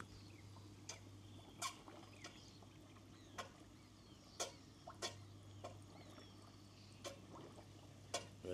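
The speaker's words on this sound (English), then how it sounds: "There is a water blade on there." Steady splashing of water pouring from a water blade into a 5000-gallon koi pond, with a low constant pump hum and scattered soft clicks and drips.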